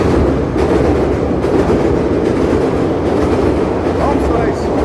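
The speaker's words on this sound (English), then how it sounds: "Here's the train." Train passing through the Lincoln Park area of Chicago, a loud close rumble with rhythmic clickety-clack of wheels over rail joints, continuous throughout with a voice briefly over it.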